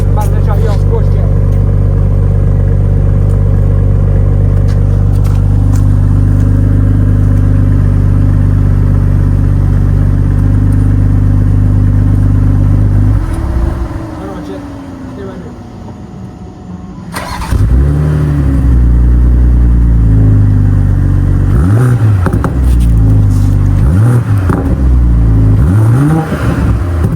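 A BMW X6 engine revving in sport mode, a loud sustained rumble that drops away briefly, then returns with sharp bursts and crackling exhaust pops, recorded at close range.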